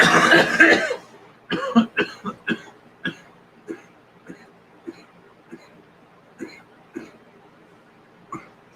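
A burst of noise, then a series of short, sharp coughs at irregular intervals, gradually fading and spacing out, close to the listener.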